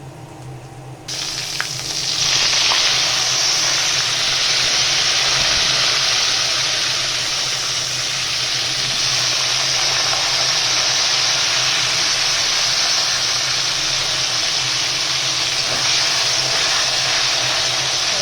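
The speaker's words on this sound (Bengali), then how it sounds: "আর এই তেলে আলু পটলটা ভেজে নেবো।" Potato and pointed gourd pieces frying in hot oil left over from frying fish, starting with a sudden burst and settling into a steady, close sizzle and hiss that lasts throughout.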